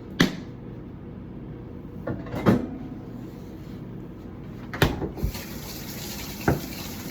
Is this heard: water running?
yes